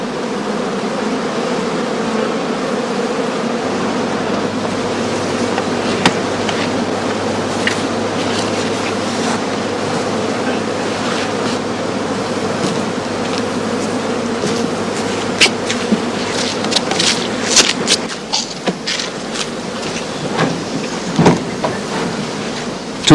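Honeybees swarm and buzz steadily around straw skeps during old-style European heather-honey beekeeping, a dense continuous drone with a few louder passes and bumps near the end.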